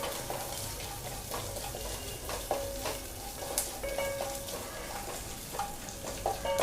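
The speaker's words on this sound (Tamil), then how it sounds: "வெங்காயம் நல்லா வதக்கி விடுங்க. சிம்மில் வச்சு வதக்குங்க." Onions sauté on a low flame for sambar, a quiet steady sizzle with scraping spoon strokes and occasional light metallic clinks against the pan, heard close with no talking.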